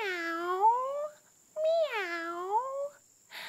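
A person imitates a cat with two long, drawn-out meows, close and clear, with a short pause between them.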